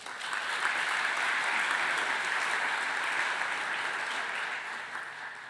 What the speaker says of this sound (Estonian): kuid siiski tunnustame teda suure aplausiga